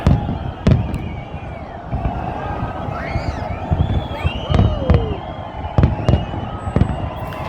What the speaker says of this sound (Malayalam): താഴത്തെ മുകളിലത്തായിട്ടുള്ള നല്ല അടിപൊളി വെടിക്കെട്ട് തന്നെയാണ് സുഹൃത്തുക്കൾ